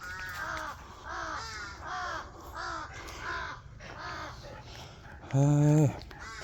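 Crows fighting over territory caw repeatedly in hoarse bursts, one after another, followed by a louder, closer caw near the end.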